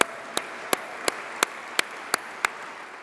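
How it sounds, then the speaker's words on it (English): Audience applause at a National Guard association conference: a steady bed of crowd clapping with one nearby pair of hands striking sharply and evenly, about three claps per second. "How about a round of applause for that service, huh?"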